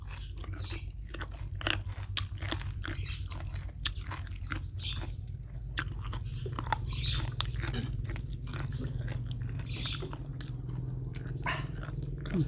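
A person chews and eats squid up close, with repeated crunchy bites and wet mastication over a steady low background hum, no talking.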